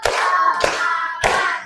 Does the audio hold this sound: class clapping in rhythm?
yes